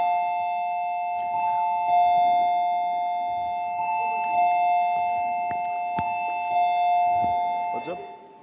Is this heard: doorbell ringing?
yes